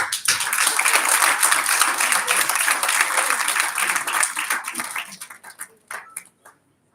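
Audience at a Hindi Diwas kavi sammelan clapping loudly and densely for about five seconds, then thinning into a few scattered claps before stopping.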